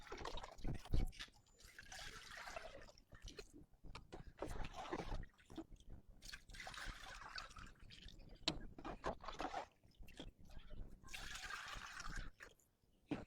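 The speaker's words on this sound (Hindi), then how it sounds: "जो रूटीन का वर्क था चिड़ी को पानी डालना वो डाल दिया मैंने" Water poured into bird water bowls on a hot day, with intermittent splashing and trickling pours broken by brief pauses and clunks over several seconds.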